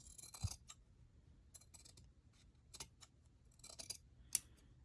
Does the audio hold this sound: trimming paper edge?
yes